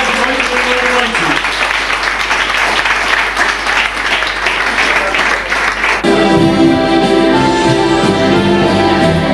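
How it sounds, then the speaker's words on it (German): Applause rises for a club champion at a dance club celebration, steady dense clapping for about six seconds before music takes over, with some speech mixed in. "Applaus für unseren zweiten deutschen Meister."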